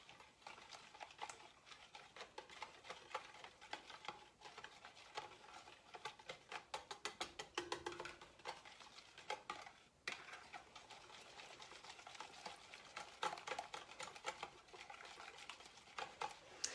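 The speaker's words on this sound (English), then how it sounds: "whisk the sour cream and the eggs together now" Sour cream and eggs whisked together in a bowl for cheddar and bacon bread, a quiet, rapid rattling patter of the whisk repeating steadily throughout.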